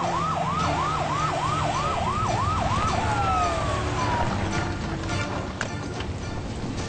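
Ambulance siren wailing in a rapid repeating rise-and-fall pattern for about three seconds, then sliding into a long steady tone that fades, loud over constant traffic rumble with faint voices in the background.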